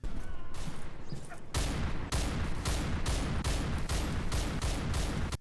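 AK rifle fire in a VR Battlefield shooter game, with loud, aggressive shots repeating in a steady rhythm of bursts that are close and continuous.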